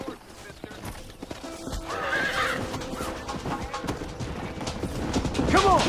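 Horses in the Xbox 360 game Red Dead Redemption whinny loudly while hooves clip-clop in a steady rhythm close by, building toward a louder neigh at the end amid other game sounds.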